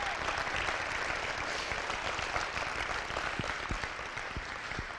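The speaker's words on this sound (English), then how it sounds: "So just give him one more round of applause" Sustained applause from a crowd at a football championship celebration, dense clapping holding steady throughout and easing slightly toward the end, with no talk over it.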